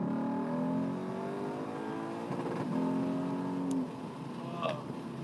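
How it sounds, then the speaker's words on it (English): A car engine on an Australian road climbs in pitch under acceleration, with a rising whine through the gears and a brief hit near the limiter. Faint voices sound around the engine noise. "every now and then just got to hit the rev limiter"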